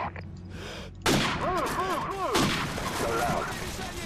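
Gunfire erupts in a video game sniper mission: a sudden loud blast breaks a quiet stretch, followed by dense rolling shots and echoes, with voices talking beneath and between the firing.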